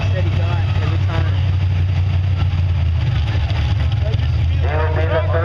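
A pulling tractor, three generations old, runs its engine at a tractor pull, a loud steady low rumble that holds throughout, with a rough pulsing texture and faint crowd noise and talk riding over it.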